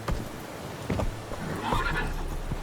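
Roach the horse neighs in The Witcher 3, a brief whinny rising near the end, along with a few hoof clops and soft scuffing, close and moderately loud.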